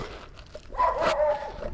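Dogs barking along a hillside pathway, a short burst of yips and barks rising in the middle of the clip, moderately near against outdoor background noise.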